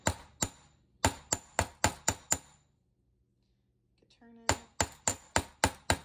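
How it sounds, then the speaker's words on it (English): Round end of a hammer tapping texture into a metal jewelry blank, a loud, sharp series of metallic strikes in two bursts with a quiet pause between. "go ahead with the round end of the hammer and start tapping to add texture around the edges and to the center."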